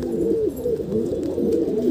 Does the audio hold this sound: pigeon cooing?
yes